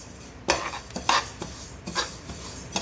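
Flax seeds dry-roasting in a pan for chutney powder, giving scattered sharp crackles and scraping stir noises, close and fairly loud, with no talking.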